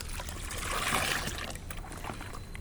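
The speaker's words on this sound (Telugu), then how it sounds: "ఇలా కలిపేసుకోవాలి, శుభ్రంగా కలిసేలాగా కలుపుకోవాలి." A milky white liquid plant fertilizer mixture being stirred in water, giving a close, continuous sloshing and swirling with small trickles, with no talking.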